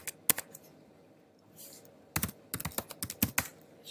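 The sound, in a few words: typing a web address on a computer keyboard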